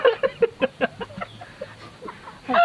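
Chickens clucking close by in a rapid run of short, repeated calls, then a few scattered softer clucks, with no talk over them.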